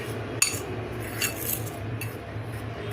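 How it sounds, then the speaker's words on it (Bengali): A spoon scrapes and clinks in a bowl while rice flour and gram flour are mixed together, giving a few soft taps and scrapes over a steady low kitchen hum, close by. "চালের গুঁড়ো আর বেসনটাকে আগে ভালো করে একটু মিক্স করে নিচ্ছি"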